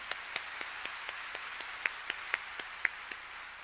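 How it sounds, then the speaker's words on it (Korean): A church congregation gives the pastor a round of applause during a dawn revival service, though it comes through as faint, sparse, evenly spaced claps with a few sharper ones, at a distance. "목사님께도 감사의 박수 한번 드리겠습니다."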